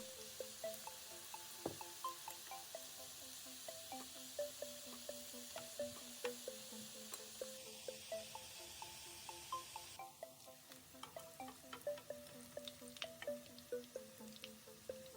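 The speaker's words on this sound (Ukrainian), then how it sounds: "Смажимо на середньому вогні з двох сторін до золотистості" Potato pancakes sizzle and spit softly in hot oil over medium heat, with scattered pops and crackles over a low steady hiss.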